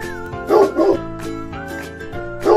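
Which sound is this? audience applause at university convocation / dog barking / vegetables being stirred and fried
dog barking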